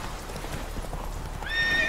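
Horse in The Witcher 3 video game, hooves clip-clopping at a steady gallop through the whole stretch, then a loud whinny rises near the end over a dense game soundscape.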